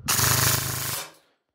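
A CYMA Platinum SLR AK-105 airsoft gun firing full auto at about 25 rounds a second, a dense, rapid, close buzzing burst lasting about a second before cutting off sharply.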